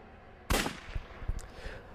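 A sharp, loud gunshot bursts out, followed by a few quieter crackling shots and thuds trailing off.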